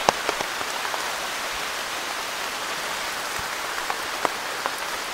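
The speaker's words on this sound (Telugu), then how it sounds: "నిజానికి విపరీతమైన వర్షం అయితే స్టార్ట్ అయిపోయింది" Steady heavy rain hisses across the whole spectrum, with scattered louder drops and splashes standing out now and then.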